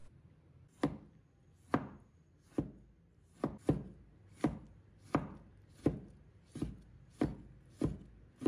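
A knife chops a tomato into small pieces on a cutting board, about a dozen crisp, close strikes in a steady, unhurried rhythm with quiet between each cut.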